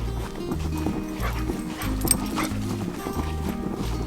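Dogs barking repeatedly and fairly close on a farm on a foggy morning, the deep barks coming in quick bursts with short gaps over a steady outdoor background.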